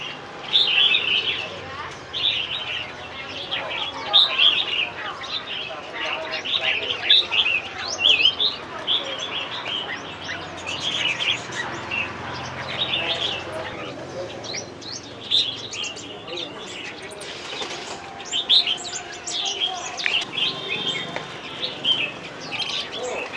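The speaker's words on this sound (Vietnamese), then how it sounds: "Đấy là con chim vành khuê bạn ơi." Caged white-eye songbirds at a bird market in an antiques market, a busy chorus of bright, high chirps and trills from several birds, near and continuous, with people talking in the background.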